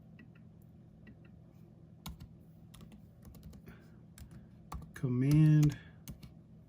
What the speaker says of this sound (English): I actually had to go to their search box and type in